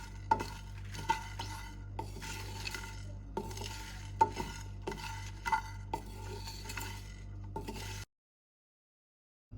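A spoon stirs and scrapes food over a flame in a preheated pan while tamarind and aloo bukhara chutney is prepared. There are repeated light clinks and scrapes over a low, steady hiss, and then the sound cuts abruptly to silence.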